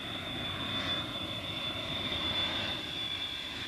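Bomber aircraft engines droning steadily in cruising flight, heard from inside as a loud, continuous broadband roar with a faint steady whine and no talking.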